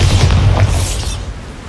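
Bombarda spell explosion in the video game Hogwarts Legacy: a heavy, loud, booming blast with deep low rumble that holds, then trails off into a fading roar.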